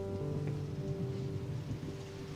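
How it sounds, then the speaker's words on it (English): Steady rain with a low rumble of thunder during a Civil War era night, a continuous dense wash of sound without breaks, fairly quiet and even throughout. "God heard them, for the heavens opened and the rain came."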